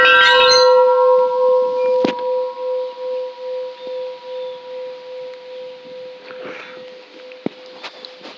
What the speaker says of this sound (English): I just wanted to ring the bell.